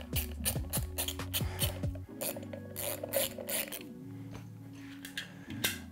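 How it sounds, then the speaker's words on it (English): A ratchet wrench tightens bolts on a Xiaomi electric scooter during a tyre repair, giving quick, close runs of sharp clicking in several bursts with short pauses between them. "Simply tighten the bolts up."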